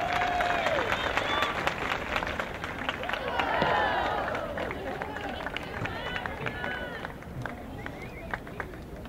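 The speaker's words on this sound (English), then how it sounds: "Ladies and gentlemen, a round of applause for Mr. Jim Swint." Applause from a ballpark crowd at a 2010 NPF All Stars versus Ole Miss Rebels softball game, steady clapping with crowd noise and some voices mixed in, swelling briefly before settling.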